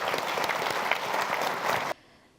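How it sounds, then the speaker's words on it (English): Audience applause at an awards gala dinner, a brisk burst of many clapping hands that cuts off abruptly near the end, leaving a quiet room. "Can we get another round of applause, please?"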